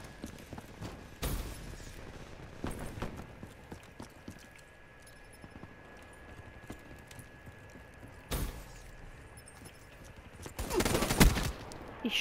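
HVK-30 assault rifle fire in Call of Duty: Black Ops III, short sharp bursts cracking out at intervals over quieter game ambience, with a louder rapid volley near the end.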